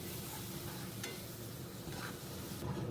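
Ground spice paste for a pabda fish curry being stir-fried in a pan, a faint steady sizzle with a soft continuous stirring texture and a couple of light spoon scrapes.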